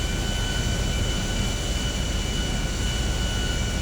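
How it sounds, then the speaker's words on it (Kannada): An airplane engine in Grand Theft Auto V drones as a steady, loud, broadband jet roar with a faint high whine, continuous and unbroken, with no talk over it. "ಏರೋಪ್ಲೇನ್ ಇಷ್ಟು ಕೂತಿದೆ. Plane versus car."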